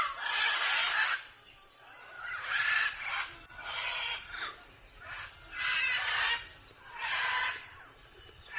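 Large cockatoos in Colombian wildlife habitat give loud, harsh screeching calls in about five repeated bursts with short pauses between, fairly close and without talk.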